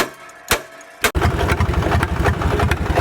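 A small tractor engine idles low and steady, its close, even pulsing throb starting after a couple of sharp knocks and continuing loud to the end.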